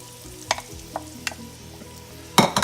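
Onions and green peppers cooking in melted butter, a soft steady sizzle with a few sharp utensil taps and clinks, then a louder burst of stirring and crackling at the end.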